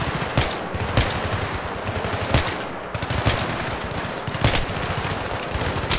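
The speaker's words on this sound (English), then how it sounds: "Where are they shooting at?" Rapid automatic gunfire from a Battlefield 3 campaign firefight, loud and dense with sharp bursts punctuating a continuous rattle throughout, with no talk over it.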